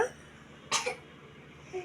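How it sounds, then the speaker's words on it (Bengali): A young girl coughs once in a quiet indoor room, a short sharp burst that is faint and close, with a small after-sound following it. "কি হয়েছে মা? কাশি?"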